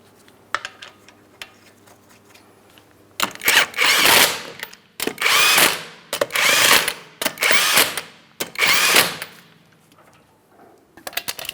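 A power tool, likely an impact wrench, runs 19mm lug nuts onto a 2008-2016 Chrysler Town & Country wheel in five loud, close bursts separated by short pauses.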